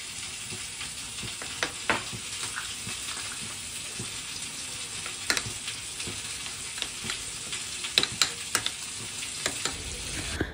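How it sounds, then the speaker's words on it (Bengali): Onion paste frying in mustard oil tempered with white cumin, a continuous crackling sizzle with scattered pops and spits, moderately close and steady throughout, no voices. "প্রথমে সাদা জিরে ফোড়ন দিয়ে সর্ষের তেলের মধ্যে পেঁয়াজ বাটা দিয়ে দিলাম।"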